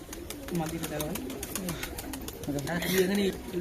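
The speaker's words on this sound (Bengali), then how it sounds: "এটা নর কবুতর" A male Giribaz pigeon coos in low, rolling bursts close by, mixed with people talking nearby and a few sharp clicks.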